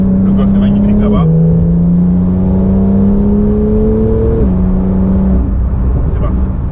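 A Porsche Macan pulls away at a golf course on a highland plateau, its engine note loud and close with a steady hum that steps down and up as it shifts through gears.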